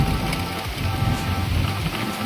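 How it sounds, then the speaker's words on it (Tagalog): Heavy rain pours steadily and close by along a jungle trail, a dense continuous wash of drops with low rumbling underneath and no pauses. "Sabi ang lakas na ng ulan."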